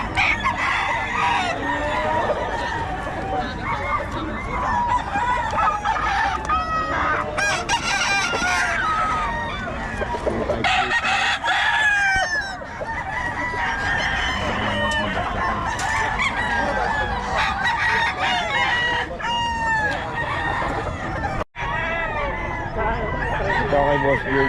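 Roosters crow repeatedly over steady clucking from a gathering of fighting cocks at a sale or show, with voices of people talking throughout, a dense, lively farmyard din that stays loud for the whole stretch.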